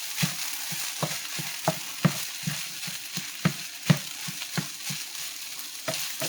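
Eggs being stirred into hot fried rice in a non-stick pan: a steady sizzle broken by repeated scraping and tapping strokes of the utensil, close and fairly quiet.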